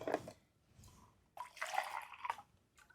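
Water is poured over fish being washed in a container at home, heard as two short splashing bursts, a brief one at the start and a longer one about halfway through, with quiet pauses between.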